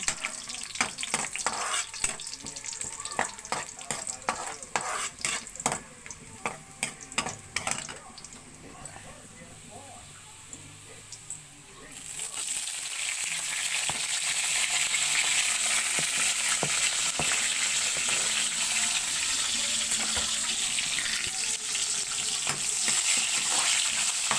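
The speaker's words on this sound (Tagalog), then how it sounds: "Nagisa na tayo ng bawang." Garlic sautéing in oil in a pan for a Filipino ginisang upo (bottle gourd) dish. Scattered stirring clicks and light sizzling give way midway to a loud, steady, hissing sizzle that carries on to the end.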